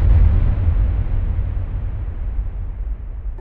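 A barrel shot with a shotgun explodes in Fortnite, opening with a loud deep boom that rumbles and slowly fades over a few seconds.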